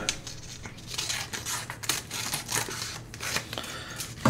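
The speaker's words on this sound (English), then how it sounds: "Clean up this wallet a little more with the scissors." Scissors snipping and trimming a paper wallet, a series of quick close crisp cuts in irregular rhythm, with no talking.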